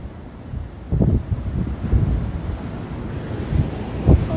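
Wind blowing on a beach, buffeting a close microphone as a steady low rumble with irregular gusty thumps, no speech.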